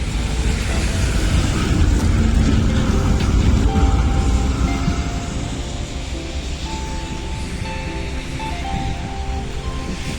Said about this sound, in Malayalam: അപ്പോൾ ഈ പോകുന്നതാണ് ഒരു ട്രാം.